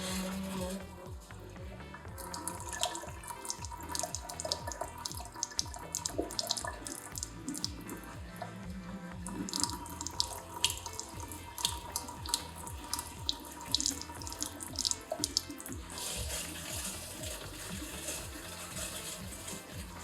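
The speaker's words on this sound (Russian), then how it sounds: "В течение 10 минут вода у нас сливается" Water drains from an Aquafor Crystal reverse osmosis filter, running and gurgling steadily into a basin, with hissing spray and occasional drips, continuous and close throughout.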